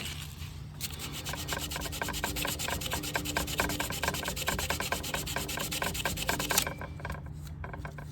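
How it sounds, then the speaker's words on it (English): A snowblower's metal surface is sanded down to clean bare metal during an ignition coil replacement, giving a steady, close, continuous abrasive rubbing and rasping that runs for several seconds with no talk. "But you go ahead and sand there, sand there, sand there until you can see good clean metal."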